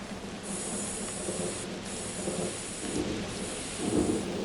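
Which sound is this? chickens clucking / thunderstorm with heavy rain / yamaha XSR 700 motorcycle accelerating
thunderstorm with heavy rain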